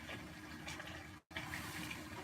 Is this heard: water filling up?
yes